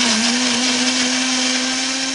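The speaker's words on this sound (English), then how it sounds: "With some saline homogenised in a blender, filtered through a simple kitchen-type filter" A kitchen blender runs continuously at high speed, homogenising stool with saline, a loud steady motor whine with a constant pitch and dense whirring noise throughout.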